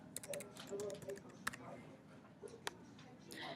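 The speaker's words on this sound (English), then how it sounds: "Here I can type in my username and my password." Typing on a keyboard to enter a username and password into a Google Drive sign-in screen, with short clusters of key taps and a few louder clicks under a soft voice.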